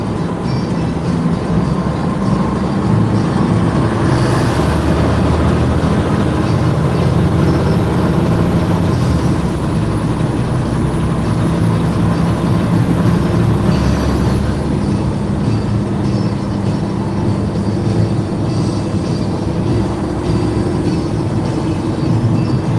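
A truck hauling a load of fill dirt drives Route 72 eastbound toward the beach at the Jersey Shore, heard from inside as a steady, loud engine drone and road rumble throughout.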